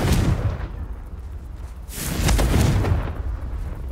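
Confringo and Depulso spell blasts from the Hogwarts Legacy video game, rolling out as heavy booming bursts that swell and fade, one surging near the start and a louder one around the midpoint, with no talking.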